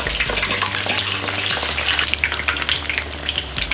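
Chicken wings deep-frying in oil heated to 350 degrees, a dense, loud, continuous bubbling crackle up close that runs without a break.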